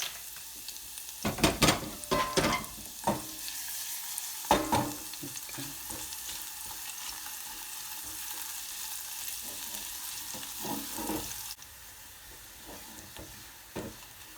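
Finely chopped garlic fries in a pan, a steady close sizzle and hiss with occasional stirring scrapes and clinks, quieter toward the end.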